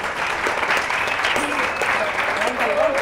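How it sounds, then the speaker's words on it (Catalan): Studio audience applause on a Catalan television word game show, a steady burst of clapping with brief voices and bits of music mixed in. "Un aplaudiment per tots"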